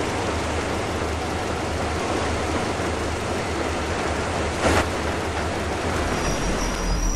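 Train in the video game Metro Exodus: a steady, loud rumbling rail roar fills the whole stretch, with a brief hiss burst midway and a faint high squeal toward the end.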